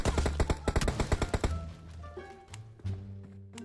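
Gunfire in the mobile video game PUBG Mobile, a rapid burst of loud automatic shots for the first second and a half, then sparse thuds and tonal game sounds.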